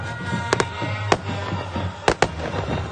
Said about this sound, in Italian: Tanto ancora fuochi d'artificio.